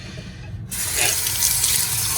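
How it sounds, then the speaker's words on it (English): Running tap water rushes into a sink for washing grapes, starting abruptly after a moment of quieter room sound and then continuing as a steady, close splashing stream with no talking. "First thing we gotta do is wash it."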